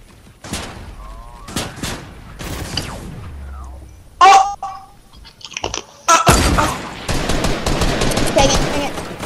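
Video game pistol gunfire comes in sharp bursts of rapid shots, loud and close, spaced between quieter stretches and ending in a dense, crackling volley.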